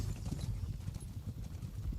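Horse hooves clip-clop steadily and softly in Kingdom Come: Deliverance 2, a quick rhythmic patter in a medieval Bohemian setting.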